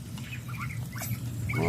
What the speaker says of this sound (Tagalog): Mga pato. Sobrang lakas kumain.